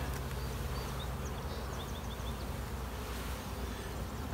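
Calm honey bees hum in a hive that has been open for several minutes, a steady close buzz filling the air with individual bees whining past now and then.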